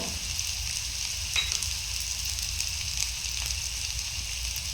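Onions frying in a pan with curry leaves for an anchovy dry fish thokku, a steady close sizzle and hiss lasting several seconds, with a few faint stirring clicks and no talking.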